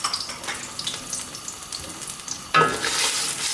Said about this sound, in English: Just fry it for a while, keep on stirring.